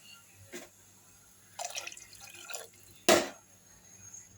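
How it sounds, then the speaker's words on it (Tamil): Water poured from a tumbler into a pressure cooker while making mango rice comes in a few short, splashy bursts separated by quiet gaps, the last pour the loudest and sharpest. "இன்னொரு 1/2 டம்ளர் தண்ணி ஊற்றணும்"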